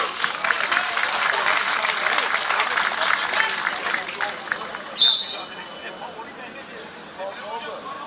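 An outdoor crowd at a traditional wrestling event on a highland plateau in Alanya applauds the mayor, dense clapping that fades after a few seconds into softer scattered claps and murmur.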